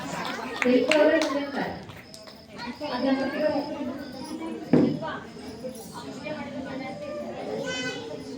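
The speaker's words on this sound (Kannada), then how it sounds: "ಒಂದು ಜೋರಾದ ಚಪ್ಪಾಳೆಯನ್ನು ತಟ್ಟಿ ಇವರಿಗೆ ಧನ್ಯವಾದಗಳು" Audience at a devotional stage event for a festival puja applauds with loud, sustained clapping and children's voices, mixed with a brief sharp bang midway and lively crowd chatter throughout.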